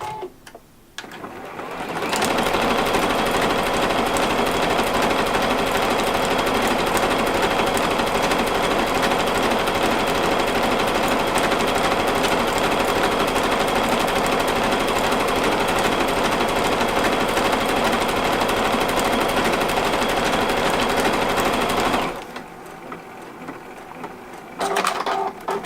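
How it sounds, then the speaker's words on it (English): A sewing machine stitches a mirror-image decorative pattern in one continuous loud, rapid whirring run lasting about twenty seconds, starting and stopping abruptly with quiet handling sounds before and after. "it's going to sew that same pattern except with the curves to the left"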